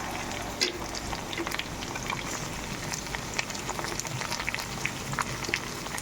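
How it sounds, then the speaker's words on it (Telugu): Capsicum pieces frying in oil in a pan for capsicum rice give a steady, dense crackling sizzle with scattered pops, close and even throughout. "బ్రౌన్ అయ్యి క్యాప్సికమ్ వేగుతున్నాయి కదా."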